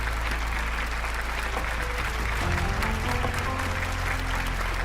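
An audience claps loudly and steadily for an uncle's stage speech at an event, a dense, continuous wash of applause from a crowd with a low hum underneath.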